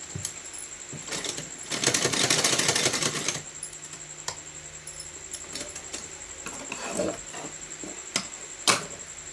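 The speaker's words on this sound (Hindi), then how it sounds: "थोड़ा थोड़ा घुमाते हुए आराम से इस तरह से सिलाई लगाएंगे" A sewing machine stitches a Laddu Gopal dress from a straight fabric strip, giving bursts of rapid mechanical clatter with a louder run early on, then shorter intermittent ticks and clicks, close by with no talking.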